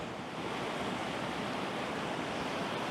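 Steady rushing water flows continuously, a broad even wash of sound like a stream running downhill, fairly close and with no voices.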